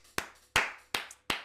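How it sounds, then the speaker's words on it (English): Four sharp hand claps at a steady, slightly slow rhythm, close and clear with nothing else behind them. "I have to clap it up one more time"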